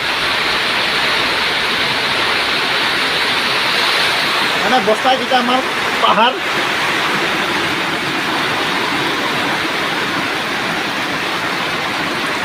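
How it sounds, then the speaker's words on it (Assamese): Heavy rain pours down steadily and loud outdoors near a river flowing down from hills, a dense continuous hiss with a person speaking briefly partway through. "তামাম বৰষুণ আছে দেই বন্ধুসকল তামাম বৰষুণ"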